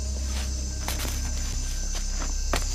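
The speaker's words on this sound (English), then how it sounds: "You're just exposed to a wonderful orchestra of different sounds, of many insects and frogs." A dense night chorus of insects on Barro Colorado Island, Panama, buzzes and trills steadily in close, continuous layers with a few brief rustles mixed in.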